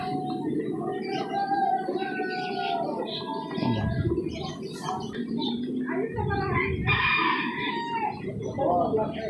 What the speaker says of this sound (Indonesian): ini jenis ayam Brahma.